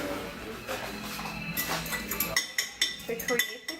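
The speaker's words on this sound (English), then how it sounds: "Next, I'm going to be whisking together here" Lime salad dressing is whisked in a bowl, with quick light metallic clinks and taps of the whisk against the bowl, soft and close, the strokes growing sharper toward the end.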